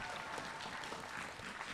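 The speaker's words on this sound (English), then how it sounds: "Round of applause again, please." Steady applause from an audience of children and adults at a primary school event, with broadband clapping that stays even and continuous throughout the short stretch, no voices standing out.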